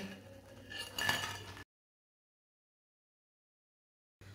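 Crispy pakoras are set onto a plate, giving soft clinks and a light scrape of plate and utensil. The sound is faint and brief, then cuts to silence.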